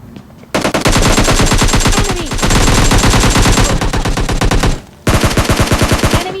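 Rapid automatic gunfire in the PUBG Lite battle royale game. Loud, dense bursts of shots with a short pause near the end, then more firing, with no voices over it.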